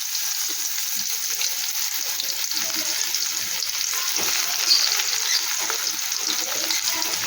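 Chopped onion frying in a karahi with kalo jeera and a dried chilli, a loud continuous sizzle with a bright hissing spatter and occasional stirring throughout.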